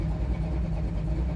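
A 1972 Chevrolet Nova SS with a small-block V8 and automatic transmission runs nearby with a steady, deep, burbling rumble and no clear revs, heard alone.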